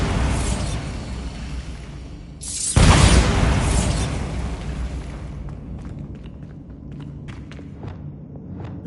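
A loud explosive boom from a Bombarda blasting spell in Hogwarts Legacy bursts in suddenly after a rumbling stretch, then settles into a lingering roar with crackling debris.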